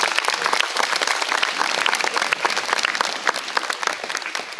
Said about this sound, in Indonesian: Jadi mari kasih tepuk tangan untuk mereka semua.